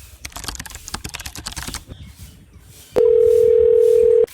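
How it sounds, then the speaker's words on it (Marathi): A phone is dialled for a call: a quick run of light keypad taps, a short pause, then a loud, steady ringing tone that holds for over a second before it cuts off. "आपण सचिन शेटला जरा फोन लावून बघू."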